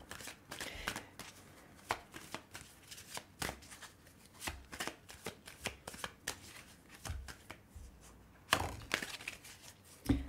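Tarot cards being shuffled and drawn, a run of quick papery riffles and flicks with soft taps, fairly close and quiet, with no voice over them.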